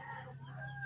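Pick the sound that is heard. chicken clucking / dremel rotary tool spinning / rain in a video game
chicken clucking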